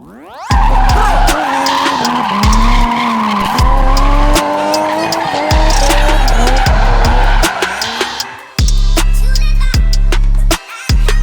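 A drift car's tires squeal loudly in long sustained screeches during a demonstration run at a drift championship, with the engine roaring and revving close by; a brief break near the end is followed by more skidding.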